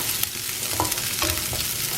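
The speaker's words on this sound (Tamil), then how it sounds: "இப்போ வெங்காயம் போட்டுட்டேன் நான். இந்த வெங்காயம் நல்லா வதங்கட்டும்." Sliced onions fry in hot oil in a pan, a steady sizzle broken by a few scraping stirs of a spatula, close and alone with no talk, for vegetable fried rice.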